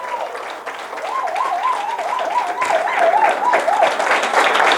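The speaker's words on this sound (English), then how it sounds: "Big round of applause." Audience applause greeting the 2015 World Public Speaking Champion as he comes to the stage, with steady dense clapping and crowd noise that swells toward the end; a whistle-like wavering tone rises and falls through the middle.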